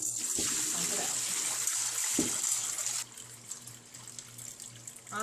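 Water is pumped and drained out of a betta fish bowl during cleaning, a close, steady gushing rush that drops to a quieter trickle halfway through, with a voice talking over it.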